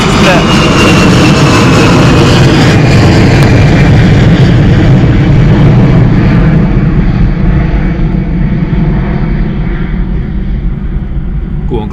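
An EasyJet Airbus A320 departing Bristol Airport roars loudly and steadily with broadband jet noise, slowly fading as it climbs away, with voices talking over it.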